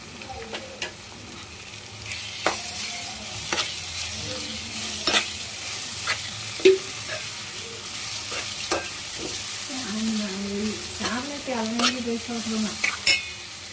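Ginger garlic paste frying with tomatoes in a pan for a dried fish and egg curry, a low steady sizzle with repeated spoon scrapes and taps against the pan, and a faint tonal hum in the background.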